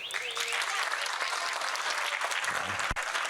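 Steady applause from an audience at a book launch at the International Book Fair fills the clip, dense and continuous, with a brief low thump near the end.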